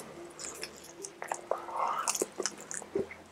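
Smoked St Louis ribs cooked on a Masterbuilt mini smoker are chewed close to the mic, with wet, soft bites and mouth sounds along with a few appreciative murmurs.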